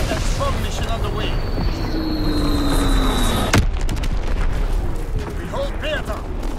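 An artillery blast booms loudly over a busy Call of Duty: WWII battle on Gibraltar, a single sharp explosion midway amid continuous gunfire and game noise, with a voice heard.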